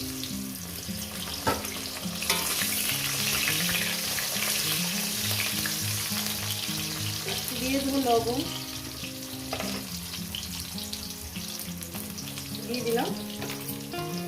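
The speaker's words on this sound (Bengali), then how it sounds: "আলুগুলো আমি সুন্দর করে লাল করে ভেজে দিই" Potato pieces fry in hot oil with a dense, continuous close sizzle, while someone speaks briefly over the cooking and a few clinks break through.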